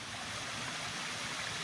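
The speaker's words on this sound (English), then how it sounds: "We've come to another beautiful waterfall along the trail." A waterfall along a hiking trail in Pisgah National Forest, a steady, fairly faint rushing and splashing of flowing water, continuous and even with no voices.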